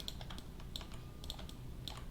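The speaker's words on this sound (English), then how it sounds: "I'm going to hold down V on the keyboard again." Soft, quiet clicks of typing on a computer keyboard, a handful of irregular key presses spread across a couple of seconds with no talking.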